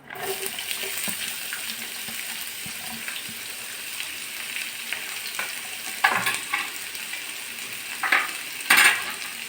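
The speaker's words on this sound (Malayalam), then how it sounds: "അത് ഞാൻ ഈ വറുത്ത വെളിച്ചെണ്ണയിലേക്ക് തന്നെയാണ് ഇടണത്" Sliced green chilies sizzle in hot coconut oil, a steady frying hiss broken by a few sharp utensil clinks and stirring scrapes toward the end.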